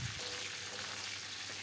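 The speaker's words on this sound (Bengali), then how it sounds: "আর এই কালো জিরে দিয়ে শুকনো লঙ্কা দিয়ে এটাকে ভালো করে ভেজে নেব।" Nigella seeds, bay leaf and dried red chili fry in hot oil for a lau shak dish, giving a steady, dense sizzle throughout with no talk.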